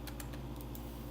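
Key clicks on a computer keyboard while modeling a car interior in Blender, a few quick light taps over a steady low hum, close and faint.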